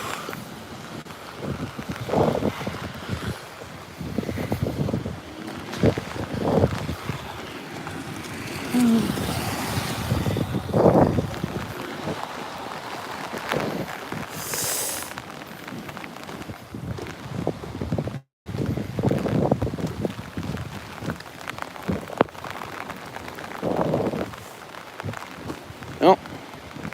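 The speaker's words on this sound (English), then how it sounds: "it's very windy with this lake effect event" Strong gusty wind during a lake effect rain and hail storm, roaring and buffeting the microphone in uneven surges, with occasional voices in the background.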